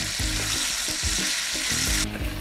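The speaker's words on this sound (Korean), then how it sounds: "야채들을 넣고 잘 익혀줄 거예요" Vegetables fry in rendered pork belly fat in a pot, giving a loud, steady sizzle close up, with several rhythmic stirring scrapes and no talking.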